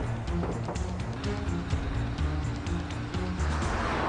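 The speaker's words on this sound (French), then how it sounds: "En plus, il y a une bagnole qui nous suit!" A car engine and road noise roar steadily and loudly through a chase sequence, with the pursuing car close behind and a musical or tonal layer running underneath throughout.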